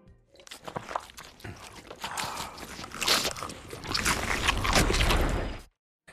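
Wet, crunchy chewing at a breakfast table, a run of close mastication sounds and bites that grows denser and louder before stopping abruptly.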